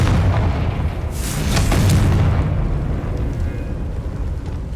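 A Confringo explosion spell in the video game Hogwarts Legacy erupts as one loud booming blast that swells, then rolls off into a lingering rumble, with no voices over it.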